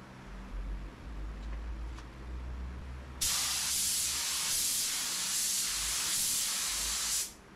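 Spray gun laying a base coat on a car: a quiet room, then a loud steady hiss of spraying starts about halfway and runs for several seconds before cutting off, with faint pulsing as the gun passes.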